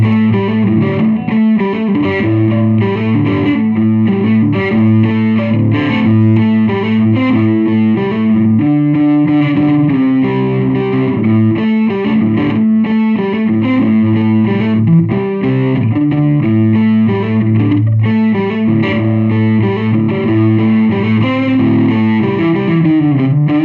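Electric guitar driven through a Tube Screamer overdrive into a 1979 Sunn 128G 12-inch speaker, a thick, distorted tone playing continuous chords and riffs, loud and up close with no voices over it.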